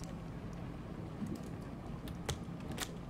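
Quick, light keystrokes on a computer keyboard tap out in an irregular patter over a steady background hum, fairly faint and with no voices.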